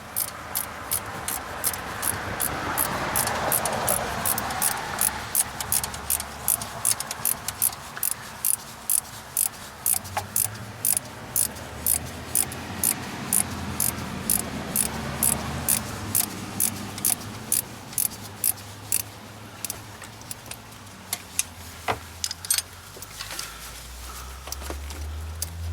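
A long bolt is turned out of a 1991 Mazda Miata MX-5 engine while the temperature sensor is replaced, with a run of quick, regular metallic ratchet clicks and some rubbing and handling noise, close and without talk.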